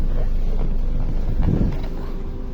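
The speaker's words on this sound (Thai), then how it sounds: "รับฟังเสียงเครื่องยนต์นะครับ" A 2007 Honda Civic FD engine with automatic transmission idles with a steady, low rumble that stays even throughout and never revs.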